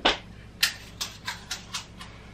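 Paleo meringue cookies dropped onto the floor, a series of six light, crisp clicks and taps spaced about half a second apart, close and fairly quiet.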